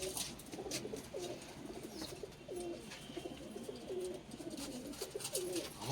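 Domestic pigeons, including local breeds, cooing in a loft, repeated soft rolling coos at an even rhythm over faint background noise, with no talking.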